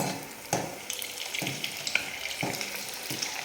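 Sweet dough balls frying in oil in a pan give a soft, steady sizzle, with periodic stirring and scraping clatters, close and fairly quiet.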